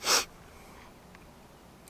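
A single sharp sneeze bursts out at close range while chili noodles are cooked outdoors on a Trangia 27 stove used as a wok, followed by quiet background hiss.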